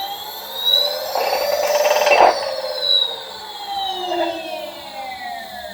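An electric motor driven by a Fardriver 72530 controller runs through its auto-learn routine, a loud, clear whine that climbs and falls in pitch in several sweeping tones, heard alone without talk.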